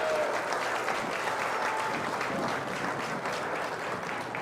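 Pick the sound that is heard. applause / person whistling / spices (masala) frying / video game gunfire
applause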